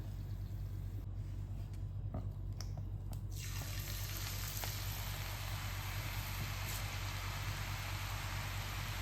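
Ulundu murukku frying in a pan of hot oil: continuous dense, hissing bubbling that stays steady and even throughout, fairly close, with no voices.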